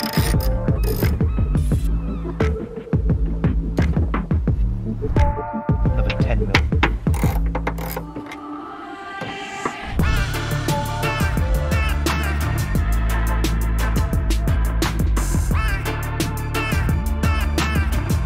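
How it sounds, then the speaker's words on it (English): A 10mm socket ratchet works on the spoiler of a Honda Civic Type R, giving dense, loud rapid clicking with mechanical rattles that continue almost throughout, briefly easing in the middle before resuming steadily. "So you want to grab a 10mm socket."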